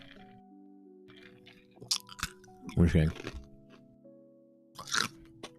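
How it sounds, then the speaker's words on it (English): Ice being chewed and crunched close to a microphone, a few sharp crunching bites with a louder cluster in the middle, over a quiet hum with a brief spoken remark. "You love the ice chewing?"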